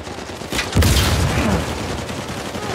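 Gunfire from Uncharted 4 multiplayer: a sharp shot followed by a louder burst of rapid shots and rumbling echo, sustained and close.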